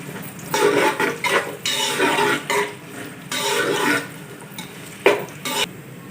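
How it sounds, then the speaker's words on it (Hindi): Finely chopped onions frying in hot ghee for mutton pulao, with a steady sizzle under repeated loud scraping stirs that come in bursts, close by and with no talk. "2 प्याज ऐड करेंगे बारीक चॉप किए हुए, हल्का सा गोल्डन कर लेंगे।"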